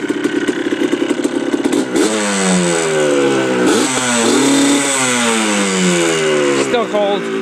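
A 2002 Yamaha Blaster ATV, still cold, runs loud and close through its FMF exhaust, its two-stroke engine revving up and dropping back several times over a steady, rattly idle.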